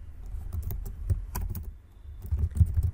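Code is typed on a nearby computer keyboard in quick, irregular clusters of soft clicks with a short pause midway, then a fresh flurry of keystrokes; no speech.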